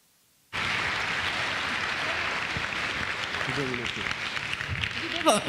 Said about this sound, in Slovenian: Applausi non sono per me, ma sono per quello là sopra.